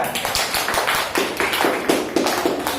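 A class claps for group 3 in a quick, rhythmic round, a series of sharp overlapping hand claps that keeps an even beat for a few seconds with no voices over it.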